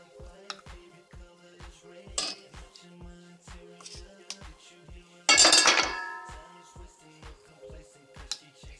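Food pieces set one by one into a metal oven baking pan, giving light clinks and taps with a brief louder scrape or rustle midway, over a steady ticking background, with no voices.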